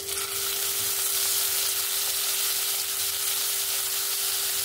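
Onion paste frying in oil alongside browned onions, tomatoes and green chillies, an even dense sizzle running steadily with a faint tonal hum underneath, close and moderate in level, no speech.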